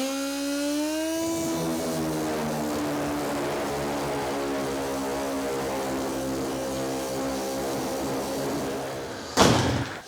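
A power sander on fiberglass whirs up and runs continuously with a steady buzzing drone, close and loud, before a brief scrape at the end.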